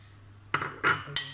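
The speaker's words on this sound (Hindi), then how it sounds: "मैक्रोनी को हम अच्छे तरीके से मिक्स कर लेंगे।" Macaroni tossed in a bowl with vinegar for a cold salad, giving three short clinking scrapes of utensil against the bowl over a quiet background.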